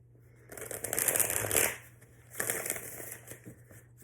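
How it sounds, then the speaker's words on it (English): Tarot cards being shuffled close by, two brisk riffling bursts separated by a short pause, crisp and papery with no talking over them. "All right, one more shuffle."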